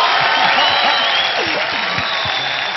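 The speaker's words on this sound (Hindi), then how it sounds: "और भी जोरदार तालियां उनके लिए जो टैलेंट को परखते भी हैं" A television talent-show audience applauds the jury of India's Got Talent in a dense, continuous roar of clapping and crowd noise, with voices rising through it.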